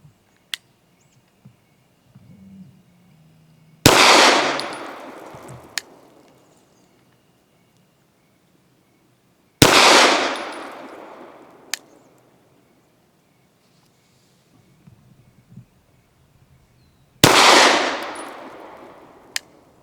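A Canik TP9 DA pistol fires 115 grain match ammunition at 7 yards, three loud sharp shots widely spaced with ringing decay, plus faint clicks and handling noise between them.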